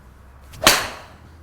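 A single crisp, sharp strike of a TaylorMade SIM Max iron on a golf ball, a quick bright crack that fades fast against a quiet outdoor background.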